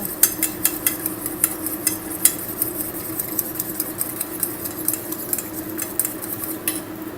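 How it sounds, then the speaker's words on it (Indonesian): Eggs beaten in a bowl while cooking Padang-style chili crab, a fast run of light clicking whisk or fork strokes against the bowl, steady and close, over a constant low kitchen hum. "Ini telurnya dikocok dulu."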